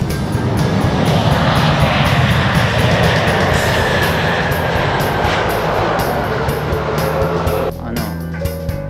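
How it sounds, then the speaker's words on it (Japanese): An airliner comes in to land at Itami airport, heard from Itami Sky Park, its steady broadband jet roar loud and sustained for most of the clip before dropping off near the end, with people talking nearby and a dog present. "あの飛行機、あの飛行機ちょっと来た来た来た。"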